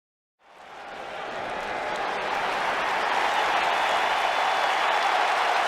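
A virtual arena crowd in the WWE 2K19 wrestling video game bursts into applause and cheering after a match, a dense roar that starts suddenly and swells steadily louder.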